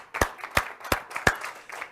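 Audience at a veterinary college scholarship donor celebration clapping for the fundraising team, with sharp bursts of applause swelling and easing in a steady rhythm, fairly close and moderately loud.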